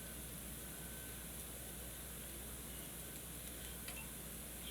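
Four scrambled eggs sizzle steadily in a hot cast iron skillet, a faint, even hiss with no talking over it.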